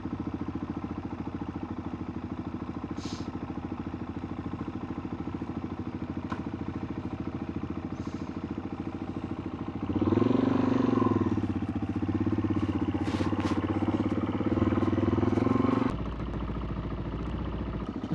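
A couple of motorcycles ride past near the Awaba mountain bike park area on a ride down to Newcastle, their engine note swelling for several seconds over a steady idling engine hum, then fading.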